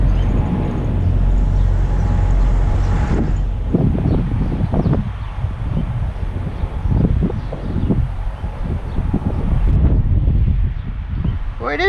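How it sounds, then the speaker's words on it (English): Strong wind buffets the microphone steadily throughout at a Petro truck stop in Gaston, Indiana, with low rumbling gusts, while someone talks intermittently over it. "Well, it is windy."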